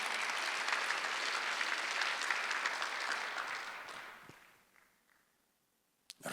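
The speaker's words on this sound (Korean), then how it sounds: "깨달은 사람만 박수해봐요" Applause from a church congregation fills a large room during a Sunday worship service, steady and dense, then thins out and fades to near silence, followed by a brief sharp knock at the end.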